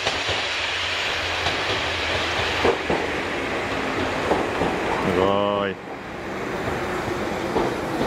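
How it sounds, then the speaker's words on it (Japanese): An empty early-morning train rolls into a station in heavy snow with a steady rumble and clattering wheels, and a person speaks briefly nearby partway through. "はい、ちょうど電車来ました。"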